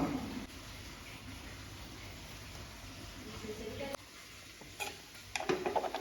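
A spoon stirs drumstick leaf lentil curry in a pot, giving soft scraping and occasional clinks against the pot under quiet kitchen background noise.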